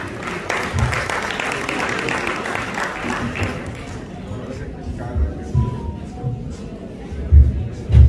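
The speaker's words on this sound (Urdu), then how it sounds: "بھرپور تالیوں میں" Audience applause at a Ghazali Education Trust UK fundraising dinner at the Royal Nawab in London, welcoming the CEO. Dense, full-room clapping fills the first half, then thins out and fades into a quieter hall with some voices.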